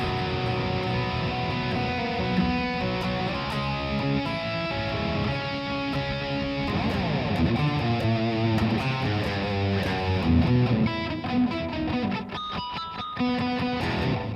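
An electric guitar plays the pre-chorus of a song, with full, sustained chords and busier, picked passages in the middle and toward the end, loud and continuous with no voices.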